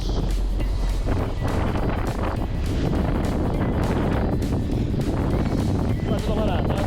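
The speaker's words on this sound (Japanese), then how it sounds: "まあ、ちょっとまだ南西の風が強いけど、これ9時ぐらいには止むからさ。" Strong wind buffets a fishing charter boat out at sea from Hashirimizu port on a horse mackerel trip, a constant roaring rush of wind and engine rumble, with people talking over it.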